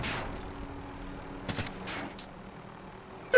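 Cluster strike in a multiplayer shooter video game, a fairly loud burst of rapid gunfire cracks and explosive bangs clustered together, heard alone with no talk over it.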